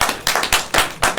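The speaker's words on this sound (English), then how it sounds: "I've got this much clapping in 6 months." A few people clap at a city council meeting right after a vote on a park improvements motion. It is a brief burst of sparse, uneven claps, five or six distinct bursts, close and fairly loud, with no talking.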